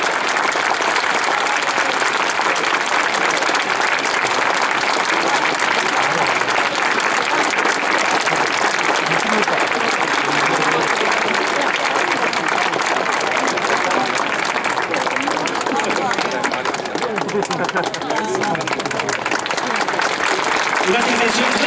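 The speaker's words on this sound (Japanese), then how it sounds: "大きな拍手を。" A stadium crowd at the FC Gifu vs Sagamihara J-League match applauds loudly and continuously for Tomoya Ugajin reaching 300 J-League appearances. The dense, roaring clapping fills the whole stretch at a steady level.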